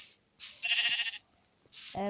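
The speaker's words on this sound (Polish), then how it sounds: "muszę zaatakować sobie owce" Minecraft sheep bleating in a survival game: two short, nasal bleats, close and clear, separated by a brief quiet gap.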